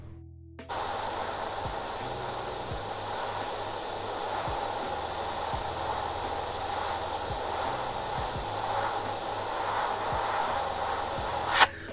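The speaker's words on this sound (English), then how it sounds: "just spray that." Steady aerosol spray paint hissing onto a guitar body in a solid coat, a continuous broadband rush lasting the whole stretch with faint low thumps and hum underneath, no talking.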